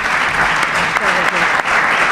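A conference audience at a Renaissance fair in Fonz claps loudly and steadily to welcome an author, a continuous burst of applause throughout.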